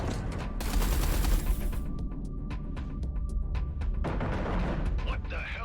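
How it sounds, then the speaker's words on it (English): Space combat artillery fire in Everspace 2, with a rumbling barrage of booms and a rapid train of sharp repeated shots, while characters' voices speak over the action. "Units, shoot the external defenses while we target the base. Sir, yes sir. Eduardo, concentrate artillery fire on Blakemore's carrier."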